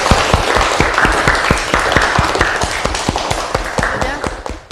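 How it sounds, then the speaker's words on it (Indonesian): Students in a classroom applaud a presenting group, giving a loud, close, steady round of clapping in a strong, regular pulse for several seconds before it fades. "Tepuk tangan untuk kelompok 1"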